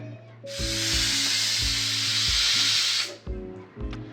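Pressure cooker cooking rajma lets out a loud, steady hissing whistle of escaping steam for about two and a half seconds, then cuts off, with a few shorter puffs and clanks around it.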